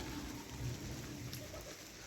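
Steady rain falls at a French zoo park, a soft, even hiss of drops on surfaces heard alone and fairly faint throughout.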